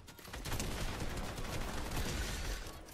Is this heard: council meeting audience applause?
no